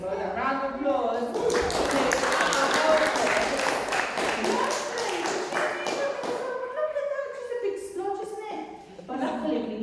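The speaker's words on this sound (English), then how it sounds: "Round of applause." Brief burst of audience clapping at a church gathering, dense at first and then thinning, mixed with a voice speaking and some singing or music near the end.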